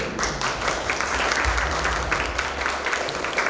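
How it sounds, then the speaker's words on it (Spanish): Applause from an audience at a university event on gender violence, a steady patter of many hands clapping for several seconds, with a faint low hum underneath. "Un fuerte aplauso, por favor."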